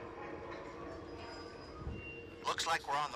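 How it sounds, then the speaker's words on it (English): In the VR horror game Until Dawn: Rush of Blood, a ghost train ride rumbles along its track with a low, steady mechanical drone. A voice talks over it and breaks into sharp bursts near the end. "It seems we've landed on the old ghost train."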